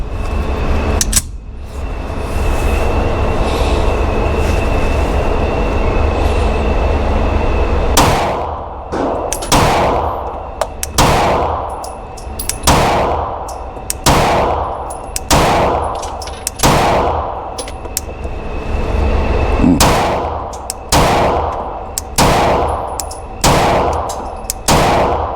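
Rost Martin RM1C pistol fired at a target from 10 yards: after a long pause, about a dozen loud, sharp single shots ring out at an outdoor range, spaced roughly a second apart, with faint metallic pings between them.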